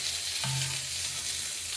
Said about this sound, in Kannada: ಒಗ್ಗರಣೆ ಮಾಡಿಕೊಂಡಾಗ